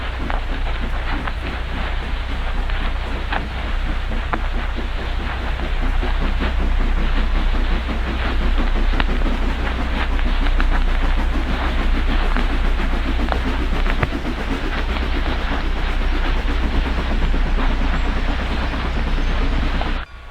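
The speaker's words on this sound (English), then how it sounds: "with a toot of its whistle, the 314 hauls the train out of the station" Locomotive 314 of the EE era in Cincinnati hauls a passenger train out of a station, a loud, steady rolling rumble and rail noise that holds unbroken for the whole stretch.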